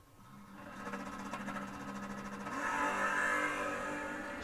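Drag race cars, among them a big red Chevelle wagon, roar and rev down the strip at a door car event, a loud sustained engine blare that swells and builds toward the end.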